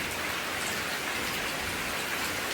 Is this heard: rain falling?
yes